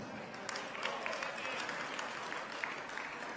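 Steady applause from the German delegation at a formal gathering, a dense wash of many hands clapping continuously at moderate loudness throughout.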